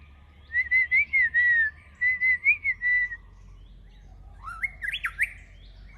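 A white-rumped shama in a jungle setting sings clear, loud whistled phrases in two bursts of rising and falling notes, followed by a softer, quicker run of sharp rising chirps, with no talking.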